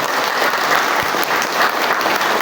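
A room full of people at a routine community meeting break into loud, dense clapping, a steady unbroken wash of many hands lasting a couple of seconds with no voices over it.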